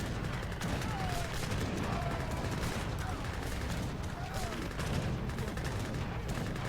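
Gatling guns fire volleys in an Age of Empires 3 three-versus-three match, a dense, continuous crackle of rapid gunfire with battle noise that never lets up.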